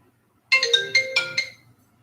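Phone ringtone from an incoming call, a short bright melodic chime of several quick pulsing notes, clear and close, then silence.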